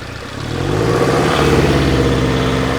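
A car engine idles, then revs up to about 2000 RPM and holds at a steady, higher hum, loud and close.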